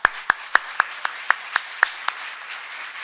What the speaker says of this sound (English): they deserve a round of applause and a big well done to them